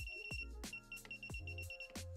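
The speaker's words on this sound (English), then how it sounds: "once we get it locked on, when we go over the other side, it beeps" Klein Tools ET310 circuit breaker finder giving three loud, sharp, rapid beeps spaced evenly about every two-thirds of a second, close to the device, with no speech.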